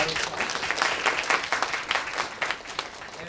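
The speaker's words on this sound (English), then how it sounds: "let's give Bob a round of applause" Audience applause for Bob after his research presentation, a steady patter of many hands clapping together at close range for a few seconds.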